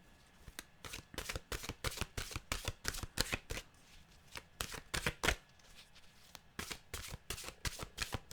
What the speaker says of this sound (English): Let's get our wisdom cards here, our mystical wisdom, I should say, for our mantra for today.